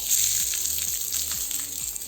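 Onions sauté in oil in a heavy-bottomed pan for a Thai Massaman curry, producing a steady bright sizzle with a few soft stirring sweeps beneath it and no voices.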